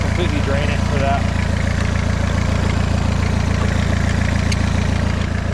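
A turbocharged diesel engine fitted in a Suzuki Samurai idles with a steady, throbbing low rumble that holds evenly from start to finish, close and continuous.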